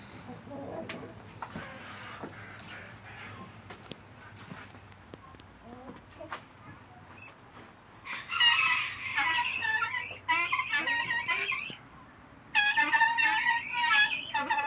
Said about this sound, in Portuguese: Ó as angolinhas vindo ali de novo com a galinha.